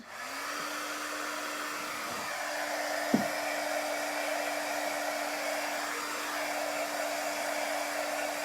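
A hair dryer runs steadily to dry a chalk craft project, a gnome door hanger. It holds a loud, even whir for about eight seconds, with a couple of faint knocks partway through.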